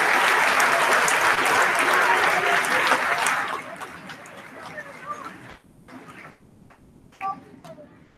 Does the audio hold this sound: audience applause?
yes